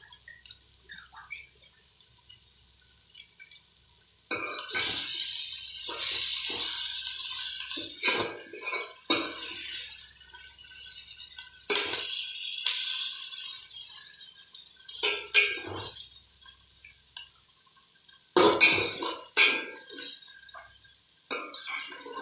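Biryani masala for a chicken biryani is sautéed in a pot, where a quiet opening gives way to bursts of moist sizzling and stirring scrapes that swell and fade.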